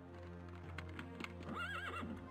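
Horse in the Daggerfall video game whinnies sharply over a rhythmic clip-clop of hooves, close and clear, with no talking.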